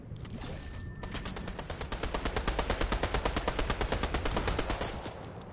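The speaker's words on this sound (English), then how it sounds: "Someone already shooting at you." Rapid automatic gunfire in the Fortnite video game, Chapter 3 Season 1: a long, steady stream of evenly spaced shots rattling for several seconds, fairly loud and continuous, with no talk over it.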